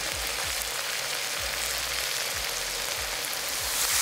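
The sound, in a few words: curry powder being stir-fried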